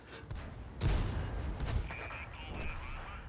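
Tank cannon fire in a tank video game replay, with a heavy boom near the start and a second blast shortly after, then a lingering rumble and faint mechanical whine.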